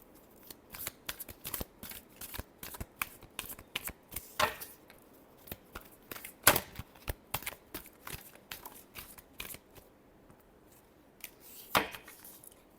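Tarot cards being shuffled by hand, a quiet, close run of crisp irregular flicks and snaps, with a few sharper slaps among them.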